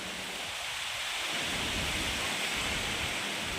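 Steady heavy rain and gusting wind roar continuously outdoors around a tent during a storm, a dense, unbroken wash of noise with no talk.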